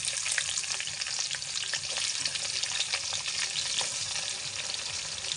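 Chopped onion sizzles in hot oil with bay leaf, green chilli, ginger and garlic in a wok, a close, steady crackle with small spits and stirring scrapes.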